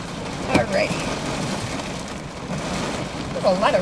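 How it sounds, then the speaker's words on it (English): Steady heavy rain during a storm chase in the Ohio Valley, hissing on a vehicle as a broad wash of noise throughout, with someone speaking over it. "There's a lot of rain."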